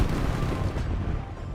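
An SMG fires in a video game under playtest: a short, dense run of rapid, booming shots, close and steady, with no talk over it.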